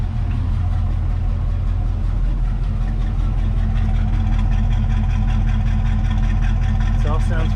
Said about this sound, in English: Exhaust sounds pretty. Sounds like it's hitting on all those banks over there.